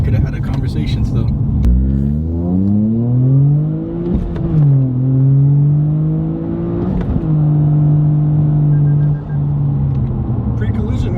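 A Toyota GR Corolla fitted with an AWE Touring Edition exhaust and center oval tip revs up loudly, its engine note climbing, dipping and settling into a steady drone, with people talking inside the car.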